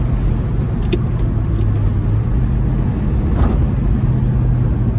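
A 1967 Pontiac GTO pulls away among parked cars, its low engine rumble steady and loud throughout, with a faint rise in revs partway through and no talking.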